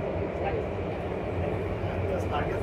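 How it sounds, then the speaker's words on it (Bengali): A Singapore metro train running underground, with a steady low rumble and rolling rail noise filling the carriage while a person talks over it. "এই মেট্রো রেলটা হচ্ছে পুরোটাই সিঙ্গাপুরের মাটির নিচ দিয়া"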